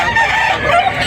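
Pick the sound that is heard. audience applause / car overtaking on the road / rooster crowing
rooster crowing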